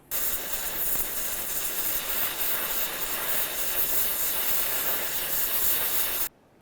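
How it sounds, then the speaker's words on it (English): A torch roars with a loud, steady hiss while heating the front wheel bearing race of a 2011-2016 Hyundai Elantra, close and unbroken for about six seconds before cutting off abruptly. "if you have access to some torches or some heat, we're just going to go ahead and heat up that race right there"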